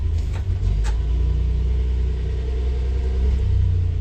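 A 1976 Datsun B210 engine idling rough after a carburetor install, a low, uneven rumble with slight surges, close by and steady over a few seconds.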